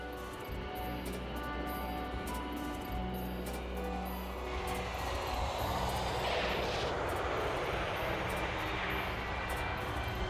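A Pan Am airliner on short final approach produces a roar that swells broadly in the middle of the clip over a layered, droning background, with no clear speech.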